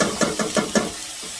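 Onions sauté in a pan over medium heat with a steady, loud sizzling hiss, pulsing in quick regular strokes as they are stirred.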